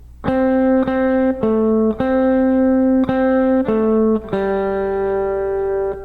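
An acoustic-sounding guitar plays a slow boogie woogie lick in C, a series of clear plucked single notes and repeated low string tones in a steady stepwise rhythm, close and alone with no talk.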